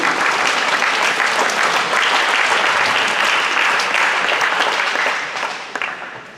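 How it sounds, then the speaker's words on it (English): Sustained, loud audience applause fills the hall at a school academic awards assembly, holding steady before tapering off near the end. "Maybe we'll hold our applause until I get them all read."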